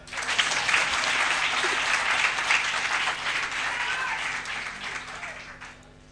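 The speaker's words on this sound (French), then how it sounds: "Vous ne voulez pas applaudir ça?" Audience at an extraordinary party congress in Togo breaking into loud, sustained applause from a large crowd, a thick wall of clapping that holds steady before fading out near the end.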